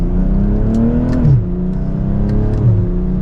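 A BMW M240i with a B58 inline-six engine accelerating hard, its engine note rising in pitch, dropping abruptly at two quick gear shifts, then climbing again, loud and close.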